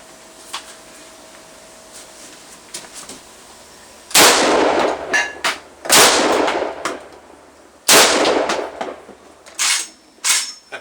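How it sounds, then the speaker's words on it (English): Twelve-gauge shotgun rounds fired from inside a house, three loud, sharp blasts spaced a few seconds apart, each followed by clattering and rattling sounds, with quieter knocks before the first shot. "I thought I'd pop off a few rounds of the Sega 12 gauge"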